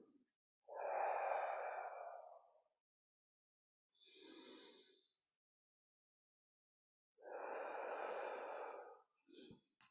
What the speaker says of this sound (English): Inhale as we come down.